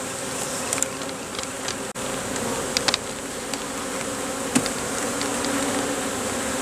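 Dense, agitated buzzing of many honeybees on a hive frame close by, a constant drone with occasional louder individual buzzes passing near.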